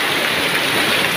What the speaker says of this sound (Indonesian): Hujannya lebat banget